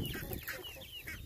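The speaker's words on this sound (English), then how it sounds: "So here are our chickens." Several chickens cluck in short bursts at close range, with soft farmyard background noise underneath.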